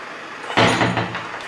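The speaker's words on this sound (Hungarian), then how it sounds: "Innen behúzzuk az ajtót." A door is pulled shut in an abandoned KFC restroom, one sudden thud-like knock followed by a brief rattling decay, close and fairly loud, with no talking.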